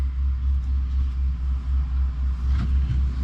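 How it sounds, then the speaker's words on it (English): A weigh truck idles as it pulls up on a Wisconsin dairy farm, its steady low engine rumble continuous and fairly close, with a slight rise in the rumble near the end and no talking. "And the weigh truck just pulled up."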